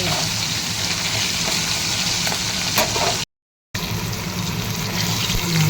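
Tilapia and catla fish frying in hot oil, giving a steady loud sizzle and crackle with occasional pops that continues alone, broken only by a brief silent gap.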